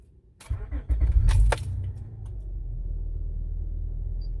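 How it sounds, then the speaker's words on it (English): An Acura TL engine cranks and starts after a door thud and jangling keys, the brief loud start settling into a steady, close low idle hum. "Now I'm gonna start up the car."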